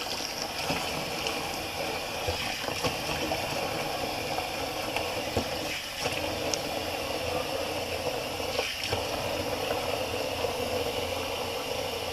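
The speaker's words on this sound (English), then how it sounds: "Let me just rinse off the face with the cold water." Cold water runs steadily from a tap while someone rinses their face after a shave, making a continuous, fairly close rushing splash with faint rattles, and no talking throughout.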